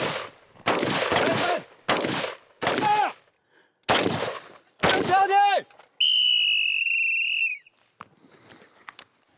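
Several bursts of live-round gunfire during armed security training for an official protection detail, loud and close, coming as short volleys separated by pauses, followed by a sustained whistle blast and a few faint clicks.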